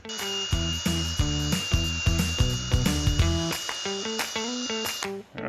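Corners of metal caps being rounded on a grinder, a rapid series of close, loud grinding passes over a constant high whine, each stroke swelling and fading in an even rhythm, with no voices.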